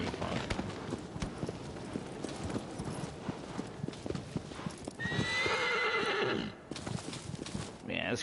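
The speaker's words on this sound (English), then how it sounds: "Driving a horse." A horse gallops and neighs in the video game Shadow of the Colossus: quick clip-clop hoofbeats run throughout, and a loud whinny rises midway. Someone talks over part of it.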